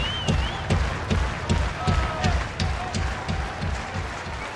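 Baseball crowd at a minor-league ballpark in the bottom of the seventh inning, a steady rhythmic stomp-and-clap chant rising and falling throughout, with scattered whistles and murmuring voices under it.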